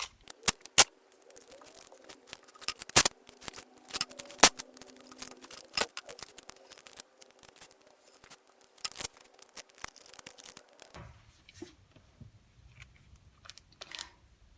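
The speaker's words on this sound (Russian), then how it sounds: "клею скотч." Adhesive tape being pulled and stuck onto leather while preparing it for tooling, with repeated sharp crackles and tearing clicks over a steady faint hum, then quieter scattered taps near the end.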